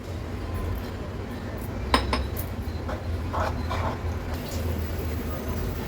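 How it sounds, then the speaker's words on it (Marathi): Bhaji batter gets mixed in a bowl, with soft irregular clinks and scraping of a utensil against the dish, close but quiet over a steady background hum. "आता व्यवस्थित हे बॅटर मी मिक्स करून घेते"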